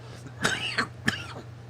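A person gives a few short, rough coughs or throat clears, three quick bursts spaced apart, fairly faint over a low steady hum.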